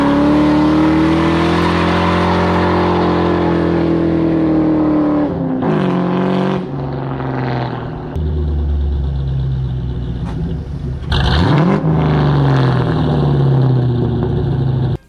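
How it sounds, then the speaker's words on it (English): A Ford SN95 Mustang GT with an off-road X-pipe and intake roars loudly through a burnout, engine revving steadily with tire squeal and skidding, dropping off briefly mid-run before surging again close by. "they'll still do a burnout. Improved burnout right here."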